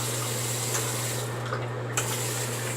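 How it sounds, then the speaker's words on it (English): Tap water runs and splashes steadily into a sink during a wet shave, a close, continuous hiss with a few small splashes and a low hum beneath. "Warm water splash."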